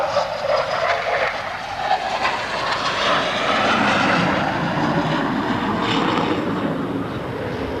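A Vickers Valiant V bomber roars past at an air show at RAF Fairford, a broad, sustained jet rumble and whoosh that swells steadily and stays loud throughout.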